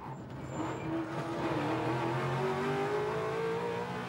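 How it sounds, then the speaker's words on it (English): A race car strikes the curb and its wheels spin as it slides, with a loud, continuous engine drone that rises in pitch and holds steady throughout. "Watch again as the car hits the curb and the driver lets the wheels spin and correct itself"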